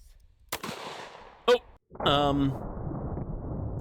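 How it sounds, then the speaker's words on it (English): A 12-gauge shotgun firing double-aught buckshot into a ballistics target, with a sharp loud report followed by another crack and then a voice reacting under the echo. "the most iconic 12-gauge shotgun ever"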